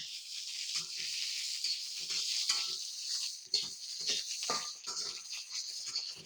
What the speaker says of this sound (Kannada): ಈಗ ಟಮಾಟ ಕಾಯಿ ಹೆಚ್ಚಿಟ್ಕೊಂಡಿವಲ್ರಿ ನಾವು ಇದನ್ನ ಉರಕ್ಕೆ ಹಾಕ್ಬಿಡ